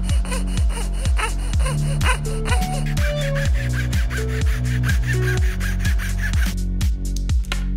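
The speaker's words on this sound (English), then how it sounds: "Then we can cut the inside parts of the eye out of basswood with a coping saw" A coping saw cuts through basswood in steady back-and-forth strokes, each one a rhythmic rasping pulse. The sound is close and continuous, with no talking.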